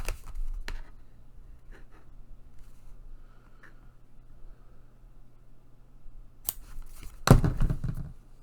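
A few sharp snips of scissors cutting paper for a handmade lunch-bag journal, clustered near the end after mostly quiet rustling.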